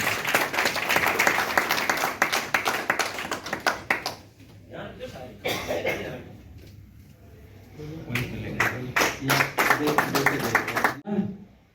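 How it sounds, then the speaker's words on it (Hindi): An audience at an outdoor event in a Supreme Court courtyard claps in bursts, a dense first round fading, then scattered claps and a second swell, with a voice heard between. "कृपया तालियों में कोताही ना करें।"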